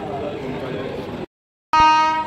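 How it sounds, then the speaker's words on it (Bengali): The 15014 Ranikhet Express, running Kathgodam to Jaisalmer, pulls into a station. Rumbling platform noise cuts to a short silence, then a loud, sustained horn blast rings out close by. "15014 রানীক্ষেত এক্সপ্রেস কাঠগুদাম তো জয়সলমীর ট্রেন ঢুকছে"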